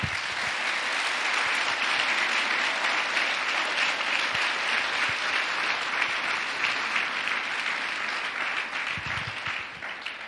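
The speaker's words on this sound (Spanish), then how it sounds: "Bríndele fuerte el aplauso a Él." A church congregation applauds strongly during a Sunday service, with dense, sustained clapping that fills the room evenly for about ten seconds before easing slightly at the end.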